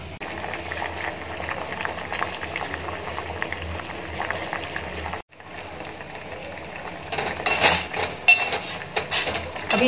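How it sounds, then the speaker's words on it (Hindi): Mango simmering in half a glass of water in a pot on a gas stove, a steady bubbling hiss with occasional clinks of the pot, briefly cut off midway and louder in the closing seconds. "आम को उबालेंगे।"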